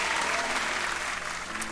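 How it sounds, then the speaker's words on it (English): A burst of applause, a steady wash of clapping hands that holds at an even level throughout. "let's give them a big round of applause."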